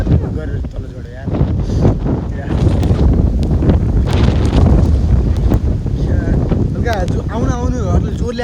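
Strong gusty wind buffets a microphone outdoors, rumbling steadily and loudly throughout with brief lulls, while someone talks excitedly over it.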